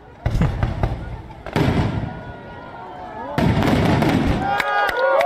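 Fireworks boom and crackle in repeated loud bursts over Cebu at New Year, with whistling shells rising between them and voices in a crowd underneath.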